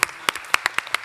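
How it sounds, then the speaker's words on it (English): Sparse applause from a small press conference audience after a panel on a film: a handful of separate, sharp claps spaced irregularly across about a second, fairly close and moderately loud. "Can we have a round of applause, please?"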